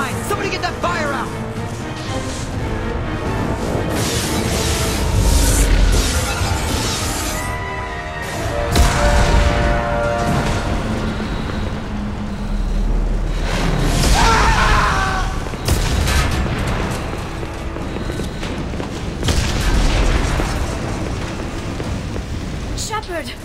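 Explosions rock an attacked spaceship in Mass Effect 2, repeated booming blasts and rumbling debris under alarms and urgent voices, with several heavy impacts spread across the scene.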